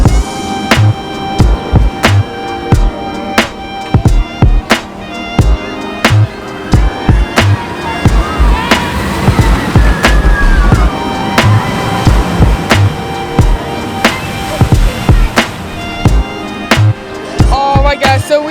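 Ride on the Corkscrew steel roller coaster at Cedar Point amusement park: loud, steady rumble and rattle of the train over the track, punctuated by regular sharp clacks and thumps, with a faint whining screech mid-ride.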